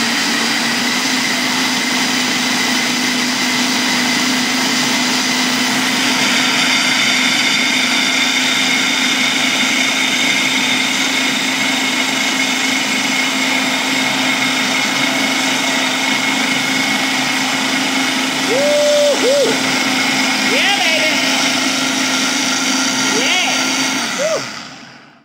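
A blender making a papaya mint smoothie whirs steadily and loudly for the whole stretch, with a few brief voice-like squeaks near the end before it stops early.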